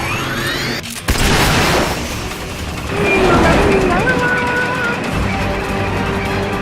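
Boosters fire in Metal Gear Solid: Peace Walker as a loud, continuous roar with sweeping pitched whines and a sudden thump near the start, dense game sound throughout.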